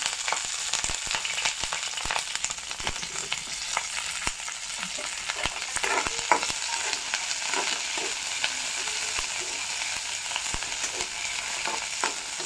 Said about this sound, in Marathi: मिरची भाजून घेताना चांगली भाजून घ्यायची आहे खमंग अशी।